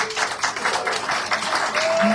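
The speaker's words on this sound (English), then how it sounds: "Round of applause." Continuous crowd applause, fairly loud and even throughout, with a faint tone near the end.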